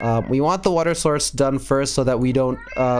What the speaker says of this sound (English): sorry about my cat